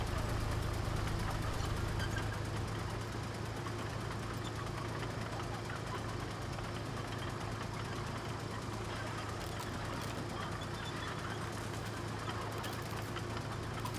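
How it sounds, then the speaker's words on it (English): A heavy vehicle engine in low gear in the off-road game Roadcraft, a steady droning rumble that runs continuously throughout at moderate level, with faint ambient bird and environment sounds layered on top. "Going to low gear so we can get through it."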